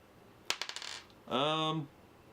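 Light, cheaply made dice from the 2017 board game Clans of Caledonia drop onto a surface with a quick run of bouncing clicks. A short hummed voice follows.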